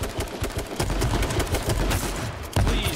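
Rapid gunshots from an H1Z1 King of the Kill match crack in dense, loud bursts, ending with a sharp heavier blast near the end, with no talk over them.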